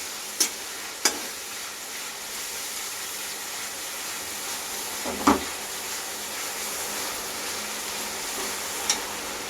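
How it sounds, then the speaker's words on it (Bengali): Ginger-garlic paste stirred and frying in a pan while cooking Mughlai paratha, a steady soft sizzle with a few sharp scraping clicks of the spoon against the pan. "তারপরে আদা রসুন বাটাটা দিয়ে দেবো দিয়ে ভালো করে নাড়াচাড়া করতে হবে"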